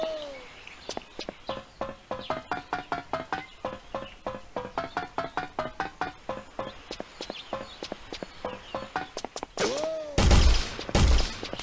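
Rapid, evenly spaced bullet sound effects from an Unreal Engine game, set to play on jumping, fire in quick succession with a slight ringing tone, ending in a louder, harsher burst.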